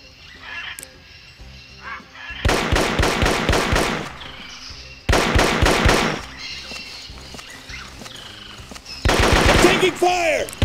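Machine gun fire in the jungle warfare video game Marine Sharpshooter II: three loud, rapid bursts of automatic gunfire separated by quieter stretches of background game sound.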